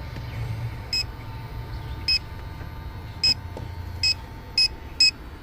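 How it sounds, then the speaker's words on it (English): A refrigerant leak detector held near a suspected leak under the hood of a 2001 Jeep Grand Cherokee 4.7L beeps sharply six times, spaced irregularly and quickening toward the end, over a steady background hum. "I put the leak detector up here, and if we get it to just the right spot up here"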